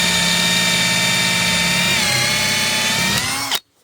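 A power drill bores steadily into a wooden truck flatbed, its motor whining at a constant pitch for about three and a half seconds before stopping abruptly, close and loud with no talking.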